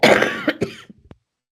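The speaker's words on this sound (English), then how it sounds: "I'm just going to cough." A single close cough, a short harsh burst that trails off into a few soft throat sounds.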